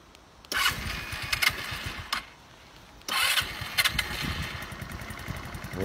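A 150cc scooter engine is electric-started twice, each time cranking briefly and catching into a close, buzzy idle with small revs, and a short drop to near quiet between the two starts.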